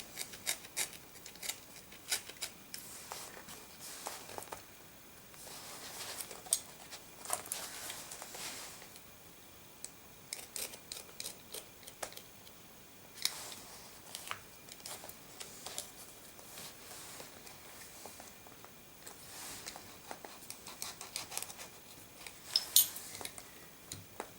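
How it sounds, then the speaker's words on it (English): A blade cuts and scores an extra slot into a Filofax Pennybridge planner on a flat surface, making quiet, intermittent scratchy strokes and light rasping, close and soft, with no talking. "So now we've cut an extra bit of slot there."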